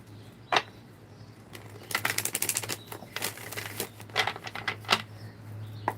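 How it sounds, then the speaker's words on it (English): Rapid riffling of a deck of tarot cards, several quick bursts of flapping paper with short pauses between, close up over a low steady hum. "All right, one more shuffle."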